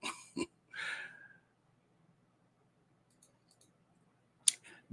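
A computer mouse clicks a few times, sharp and close, with short breathy sounds between and near-silence around the clicks.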